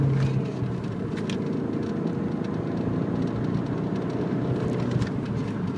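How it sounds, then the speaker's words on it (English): A 2003 Kia Spectra with a manual gearbox cruising on the highway, a steady low road and engine rumble with wind noise, heard from inside the car, with no talk. "I'll take off, get down the highway."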